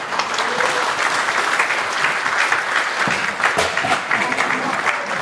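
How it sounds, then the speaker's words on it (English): A conference crowd at the WHY 2025 robot visor talk claps steadily, a dense, even wash of applause that holds at full strength throughout without any talking over it. "Also, a quick applause for its lovely assistant"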